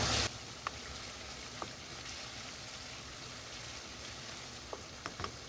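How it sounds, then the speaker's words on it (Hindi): Boiled potatoes frying in oil in a pan for a potato and egg curry, giving a steady soft sizzle throughout with a few faint pops and a brief louder burst at the start, with no talking. "आलू को भी अच्छे तरीके से भून लिया है।"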